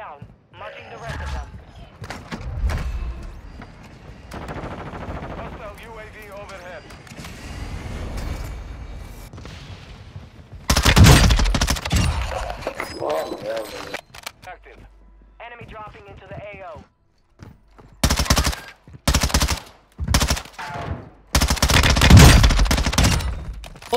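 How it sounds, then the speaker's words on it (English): Hipfire bursts from a Lachmann Shroud submachine gun in Call of Duty on the Vondel Park map, rapid rattling volleys that start and stop in several loud clusters, with people talking in between and over the shots. "Yeah, the hipfire is beautiful on this gun."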